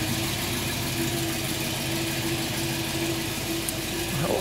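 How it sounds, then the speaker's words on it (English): A 1957 Chevrolet Corvette engine idles steadily and evenly at close range, with a continuous low rumble and faint mechanical ticking, and no talk over it. "Let it idle for a minute."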